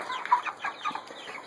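Meat chickens from a flock of about a hundred being raised for butchering cluck softly in a short, quiet burst of several overlapping calls, with no talking.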